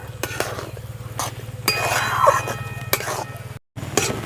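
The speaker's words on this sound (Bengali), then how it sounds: "এটাকে হালকা আঁচে নাড়াচাড়া করে একটা শক্ত ডোয়ের মতো তৈরি করে নিতে হবে" Sweet bread dough being stirred in a pan over low heat, with repeated metallic clinks and scrapes of a spoon against the pan over a steady low hum of the stove, brief pause near the end.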